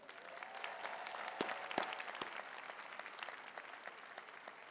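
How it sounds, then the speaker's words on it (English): A college convocation audience claps in a steady, dense round of applause that fills the whole stretch at moderate loudness, with a few sharper claps standing out and faint voices mixed in. "round of applause for them."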